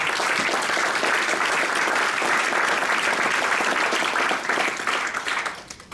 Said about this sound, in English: please give Harrison,